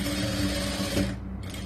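Stitching a sleeve seam on a lined churidar top, a sewing machine runs in a short, close, steady whir that cuts off after about a second.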